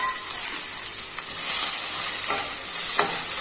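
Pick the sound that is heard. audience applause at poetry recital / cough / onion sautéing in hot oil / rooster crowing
onion sautéing in hot oil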